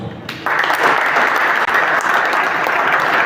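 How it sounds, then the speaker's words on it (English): Audience applause at a media conference: a dense, steady burst of clapping that starts abruptly after a short quiet moment and carries on loud and even. "I think we deserve an applause."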